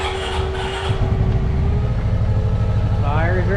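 A turbocharged Honda Pioneer 500 engine fires up and settles into a steady, loud idle with a low rumbling drone, a faint whine rising near the end.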